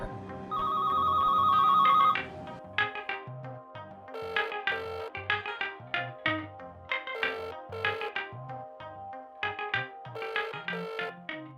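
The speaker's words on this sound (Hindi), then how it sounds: "Eamon's calling again" A phone rings with a sustained electronic tone, then a bright ringtone melody plays on, repeating its pattern of clear notes over several seconds. No voices are heard.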